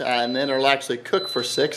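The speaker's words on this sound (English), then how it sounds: "So that beeping sound you hear means it's coming on right now." A thin, steady high electronic beep from an Instant Pot pressure cooker sounds faintly beneath a person talking close by.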